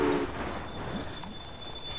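Trains pulling into a station in the railway management game Railway Empire, a steady rumbling rail ambience with a brief low horn-like tone at the start and a thin high whine running throughout.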